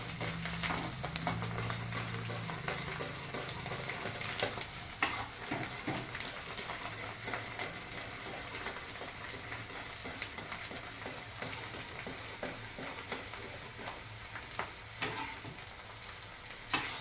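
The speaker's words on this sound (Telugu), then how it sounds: "ఆయిల్ వేడెక్కింది. ముందుగా వెల్లుల్లి గుడ్లు తొక్క తీసుకున్నవి వేసుకోవాలి" Peeled garlic cloves sizzle and crackle steadily in hot oil in a pan, with a spoon stirring and scraping now and then; close and fairly quiet, with no talking.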